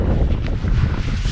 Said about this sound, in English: I wish the wind was coming more parallel